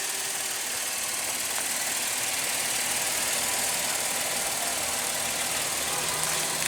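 A 2015 GMC Acadia with a 3.6-liter V6 idles in a steady, even hum, heard alone with no talking and only slight rises in level.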